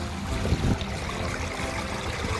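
Steady trickling and gurgling water runs over a DIY overlapping-liner backyard stream, continuous and fairly close with no talk.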